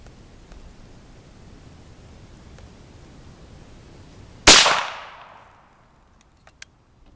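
A single sharp, loud rifle report from a Savage Model 24 firing a .22 Magnum round, a sudden crack with a short decaying tail, followed by quiet and a couple of faint clicks.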